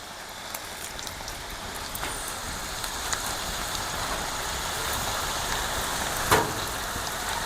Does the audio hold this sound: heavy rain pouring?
yes